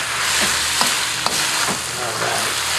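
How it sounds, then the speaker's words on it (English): Wood ear mushrooms sizzling loudly in a hot pan, with a steady frying hiss broken by a few rhythmic scrapes and clacks of a spatula stirring them, and no talking. "Into that, I'm going to add wood ear mushrooms."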